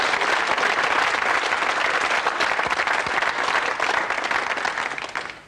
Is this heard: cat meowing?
no